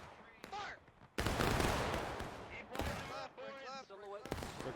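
Massed musket volley in a Civil War battle game, heavy crackling gunfire bursting out loud after shouted commands, followed by more scattered shots and voices calling out over the noise.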